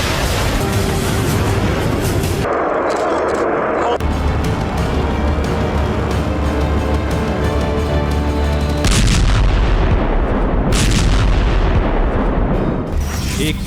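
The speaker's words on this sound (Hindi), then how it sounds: "एक के बाद एक 5 मिसाइल ब्लास्ट से पूरा इलाका दहल उठा।" Heavy booming blasts and rumbling missile explosions follow one another, loud and sustained, with roaring noise between the bursts.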